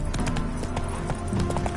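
Horse hooves clip-clopping at a steady trot in a video game, a rapid even rhythm of close hoof beats over a constant background bed.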